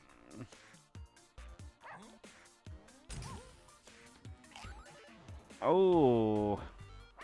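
Dogs yip and whimper in bursts in the Russian subway game while someone talks over them, ending in a long, loud whine.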